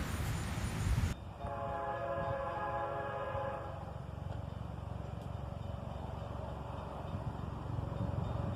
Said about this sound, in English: I had to wait about an hour before this first train finally decided to show up.